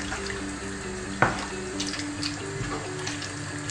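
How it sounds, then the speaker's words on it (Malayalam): Water poured into a pan of simmering potato curry, a continuous splashing pour with a brief sharp clatter partway through, over a faint background hum. "ആവശ്യത്തിന് വെള്ളം ഒഴിച്ചിട്ട് ഇളക്കി കൊടുക്കാം"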